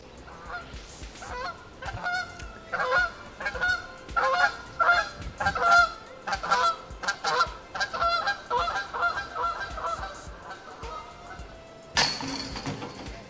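Geese honk repeatedly in a noisy, overlapping chorus at moderate distance at the Jonesboro Open tournament, followed near the end by a brief sharp crash.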